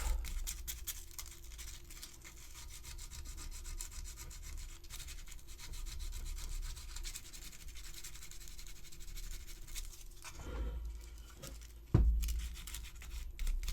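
Sanding smooth the seamlines on a resin model kit of a Xenomorph Queen and Predator, a steady dry scratchy rubbing that continues for about ten seconds, then stops with a short knock near the end.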